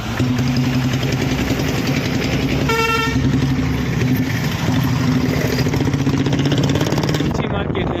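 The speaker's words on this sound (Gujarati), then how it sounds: "બરફને સ્ટોર કરવા માટે બરફ રિક્ષા ભરીને જાય છે." An auto-rickshaw loaded with ice drives past at a busy harbour by a fish market, its loud engine droning close by while a horn blares briefly and background voices carry through.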